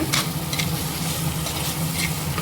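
Sundaikai, turkey berries, sautéing in oil in a pan, a steady close sizzle with a few light stirring scrapes recurring throughout, no voices.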